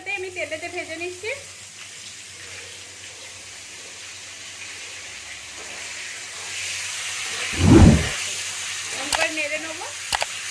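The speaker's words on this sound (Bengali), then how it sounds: "ফুলকপিটা কিন্তু আমি সিদ্ধ করি না, কাঁচা অবস্থাতে আমি তেলেতে ভেজে নিচ্ছি।" Raw cauliflower pieces fry in hot oil with a steady, soft sizzling hiss, joined by a louder bubbling burst near the middle; a voice is briefly heard near the start and end.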